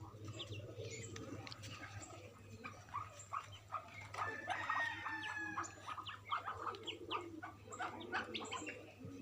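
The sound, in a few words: small chickens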